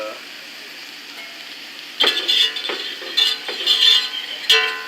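Food browns in salt-free butter in a pan, with a faint hiss at first, then bursts of brighter sizzling and spatter, loud and close, coming in uneven waves.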